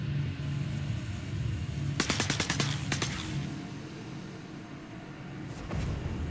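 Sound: gunshots in the video game Star Citizen

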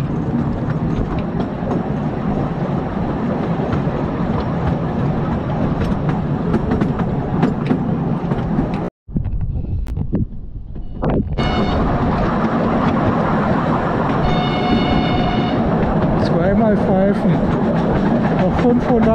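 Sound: park railway train passing on the tracks

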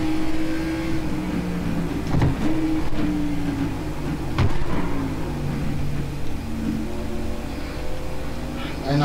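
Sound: NASCAR race car engine revving through gears, iRacing video game

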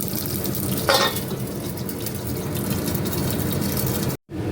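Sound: green chillies, curry leaves and mustard seeds sizzling in pan

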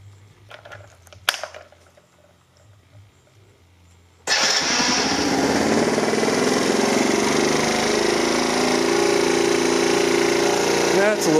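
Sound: 1982 Honda C70 Passport motorcycle engine running with chrome muffler

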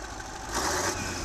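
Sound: 16.2-liter straight-8 diesel locomotive engine running on test

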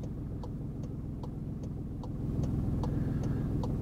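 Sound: car driving on road during driving lesson

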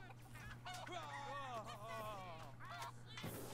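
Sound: roosters in South Park Phone Destroyer video game

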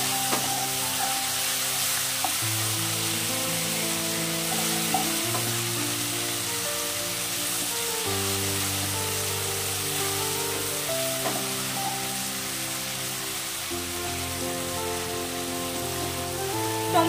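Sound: green chillies and chui jhal frying in a pan

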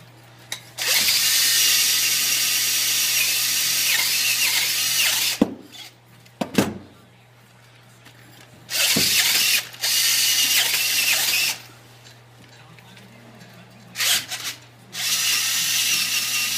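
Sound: drilling a hole in soapstone

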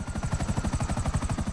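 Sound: helicopter in video game GTA V Online

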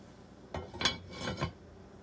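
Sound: lid put on pot of simmering prawn curry

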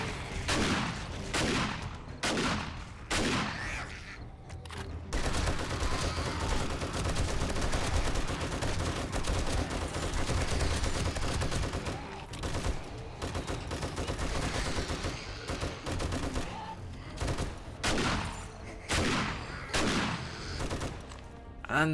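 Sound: shotgun fire in the video game 7 Days to Die

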